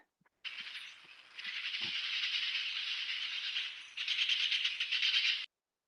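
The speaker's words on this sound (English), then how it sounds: "And we get that cackling bird." A bird isolated from a field recording gives a harsh, rattling cackle in rapid pulsed bursts, loud and raspy, running for several seconds with a brief dip before a stronger final burst.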